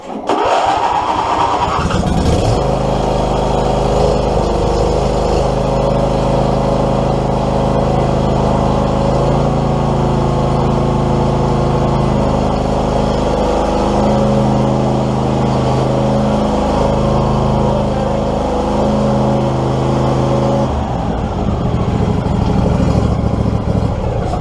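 A John Deere D140 mower's 22 HP Briggs & Stratton Model 40 V-twin cranks and catches, then runs loud and close with steady rev changes and a rough, pulsing drone before settling near the end.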